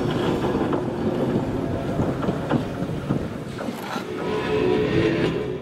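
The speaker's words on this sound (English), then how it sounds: "these 2 steel cars enter the south portal" Two Northwestern Pacific interurban steel electric cars rumble along single track toward the south portal of Alto Tunnel in Marin County, a continuous, fairly loud rolling drone with wind buffeting and no voices.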